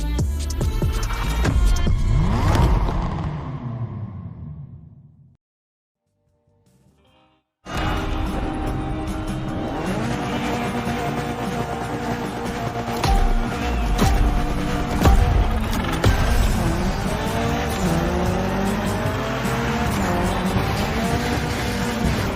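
Mitsubishi Evo 9 driven in gymkhana style in The Crew Motorfest, the engine revving hard with squealing, skidding tires; a brief near-silent gap cuts the run before the loud engine and tire noise resume and continue to the end.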